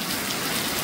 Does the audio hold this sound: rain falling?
yes